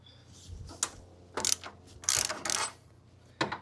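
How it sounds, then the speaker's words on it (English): Ratchet wrench loosening the bolts on a Dodge 318 shift lever mounting, a few short bursts of clicking strokes separated by pauses, close and moderately loud. "Now we have to loosen up these 3 bolts and then the one down here."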